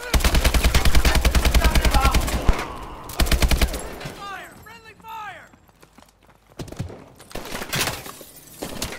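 Bursts of rapid automatic gunfire from the Call of Duty Advanced Warfare video game ring out in heavy volleys, then give way to scattered shots, debris and shouted voices over game sounds.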